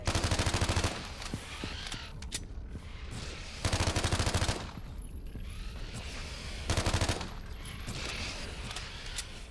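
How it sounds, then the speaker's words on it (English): Half-Life 2: Raising the Bar Redux machine gun with unlimited ammo, fired in three loud rapid bursts of about a second each, separated by quieter stretches of ambient game sound and clinking. "Thought I'd just use the machine gun, because, we got an unlimited ammo for it"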